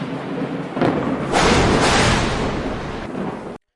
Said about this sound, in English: Lightning struck the sky after he made such a terrible pledge.